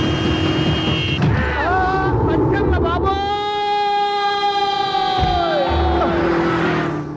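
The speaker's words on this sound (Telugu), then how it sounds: "సైరన్నే కొట్టాడు" A siren wails loudly in a street scene, its tone rising and sliding in long sweeps over steady traffic and crowd noise, with voices mixed in.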